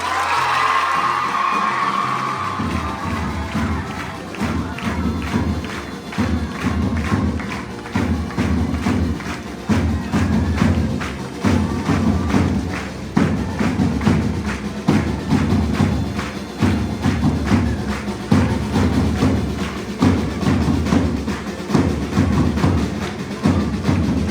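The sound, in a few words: round of applause at a school investiture ceremony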